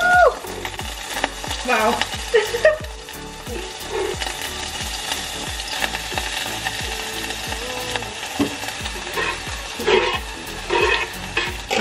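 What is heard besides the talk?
grated ginger, garlic and onion frying in a pan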